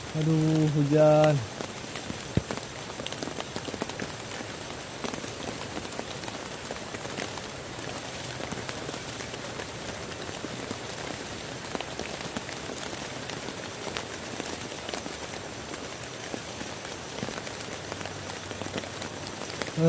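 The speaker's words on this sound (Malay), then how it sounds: "hujan" Steady rain patters and hisses on surfaces throughout at a forest campsite, a dense continuous downpour with a brief voice at the very start.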